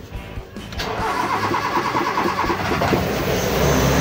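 A car engine converted to run on CNG cranks briefly, catches and rises into a loud, steady running roar that grows slightly stronger toward the end; nobody speaks.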